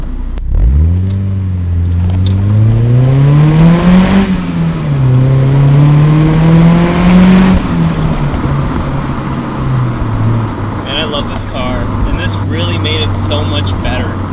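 A Mazda Miata with an aftermarket exhaust revs while driving, its engine note sweeping up and down through the gears, loud and close, then settling to a steady drone as the driver talks over it.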